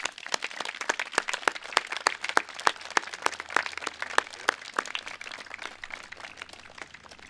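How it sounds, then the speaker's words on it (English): Graduation crowd of grads and parents clapping for their teachers, a thin, fairly quiet round of applause made of distinct individual claps at a steady pace that fades slightly toward the end. "Would you please join me, grads and parents, in giving your teachers a round of applause?"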